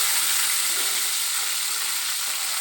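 Cumin, crushed red chilli and a little green coriander sizzle steadily in hot oil for a tadka, a dense, even crackling hiss that holds for the whole stretch with no voices.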